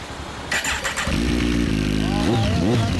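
A 2006 Kawasaki Ninja ZZR1400 fitted with a Striker exhaust starts up close by, catching with a sharp burst and settling into a deep, steady idle before blipping the throttle in quick rising revs.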